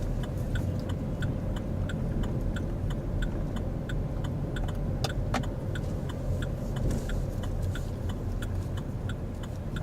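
A car engine idles and hums steadily throughout a driving lesson, with a faint regular ticking, likely an indicator, repeating over the low rumble and no talk.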